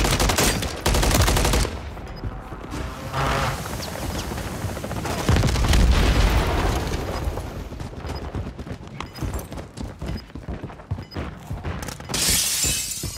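Precision airstrike explosions in Call of Duty Modern Warfare 3, loud bursts of booming blasts and shattering crackle mixed with rapid gunfire, pulsing irregularly throughout.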